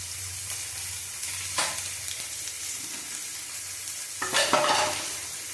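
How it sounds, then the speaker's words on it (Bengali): Nigella seeds crackle and sizzle in hot oil in a kitchen, a steady hiss broken by a couple of louder stirring scrapes, close by with no talking. "তেলের মধ্যে দিয়ে দেবো কালো জিরে"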